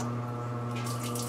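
A Maytag washing machine on its spin cycle pushes antifreeze out through a drain hose during winterization, giving a steady low mechanical hum with a continuous watery rush layered on top.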